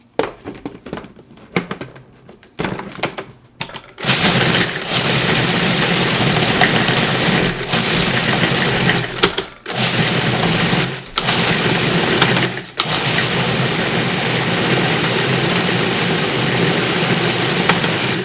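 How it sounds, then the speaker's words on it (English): A food processor pulses a ground cinnamon mixture into crumbs, loud bursts of motor whirring broken by several short pauses, with no talking. "And then we're going to pulse this up until it gets nice and crumbly."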